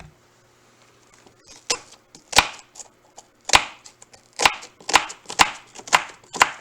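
Cutco knife chopping onion on a cutting board, a run of sharp, close board strikes that speed up from scattered taps into a fairly regular rhythm, no talking.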